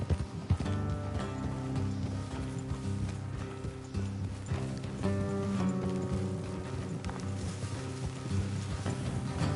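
Horses trot along a road in Red Dead Redemption 2, their hooves clip-clopping in a steady rhythm, joined by the creak and jingle of tack and a low game music bed.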